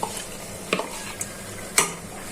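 Hilsa fish pieces dropped into an oily curry in a pan, a quiet low sizzle under a few distinct stirring scrapes and clinks.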